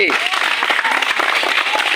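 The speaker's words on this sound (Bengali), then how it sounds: "তার জন্য সবাই একটা জোরে হাততালি।" A group of children claps loudly for a game, a dense, steady burst of hand claps filling the whole moment, with voices mixed in.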